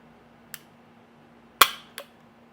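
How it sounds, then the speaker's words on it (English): Trigger pull on a CZ P-09c pistol: three sharp dry mechanical clicks close by, one faint, then a louder snap and a smaller click after it, against quiet background hum. "put that back together, and try the trigger pull again."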